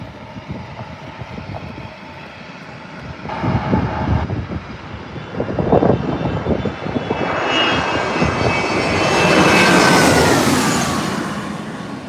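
An Air France airliner at San Diego airport sends out a loud, building jet engine roar that swells and peaks near the end, with no talking.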